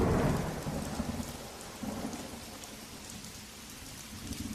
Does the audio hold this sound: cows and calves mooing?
no